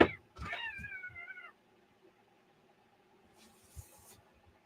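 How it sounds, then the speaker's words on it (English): A cat meows from under a building, one drawn-out wavering call followed by quiet, then a faint second cry with some rustling, close and fairly clear with no talk. "The cats are under the building."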